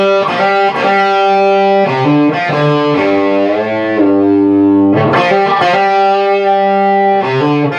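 A distorted electric guitar plays an intro lick, loud and close, with ringing sustained notes, slides and a few sharp attacks, and no talking.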